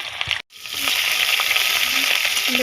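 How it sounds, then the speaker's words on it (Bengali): Onions drop into hot oil in a wok for homemade mixed chow mein; after a brief silent gap a loud, dense, steady sizzle rises and continues close by. "এখানে তেলও দিয়ে দিছি এখন পেঁয়াজ দিয়ে দিই"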